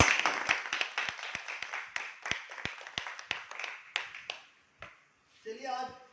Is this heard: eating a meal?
no